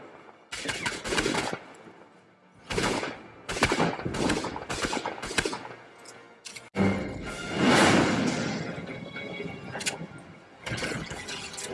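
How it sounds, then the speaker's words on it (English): Gunfire from a shooting video game streamed through Xbox Cloud Gaming: loud bursts of rapid shots in irregular clusters, separated by brief pauses and followed by a heavier rumbling explosion-like blast, no speech. "So we're still going to try out another shooting game."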